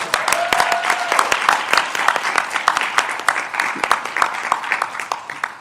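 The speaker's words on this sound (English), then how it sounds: "Please give them a round of applause." An audience applauds students from Black Girls Code at a women-in-media leadership event, with steady, dense clapping that fills the room and carries on for several seconds with only slight swells.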